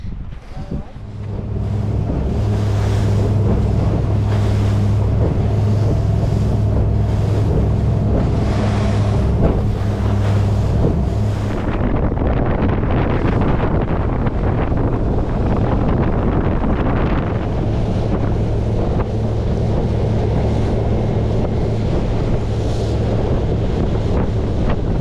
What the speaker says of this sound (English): I'm up here dealing with all these waves and wind.